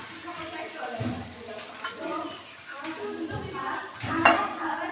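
Eggs being cracked into a pan beside chicken pieces, with soft sizzling and frying plus scraping and stirring of a utensil against the pan, close up and moderately loud throughout.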